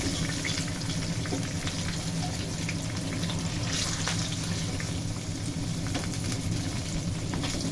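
Hilsa fish pieces frying in hot oil in a pan for a Bangladeshi tangy hilsa dish, giving a steady, dense sizzle and crackle that runs unbroken from start to finish at close range.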